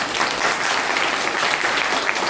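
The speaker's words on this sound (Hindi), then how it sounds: "तालियां इनके लिए।" Audience applause at a crypto earnings event, a dense, steady wash of clapping from a crowd that holds at full level for the whole stretch, with no voices over it.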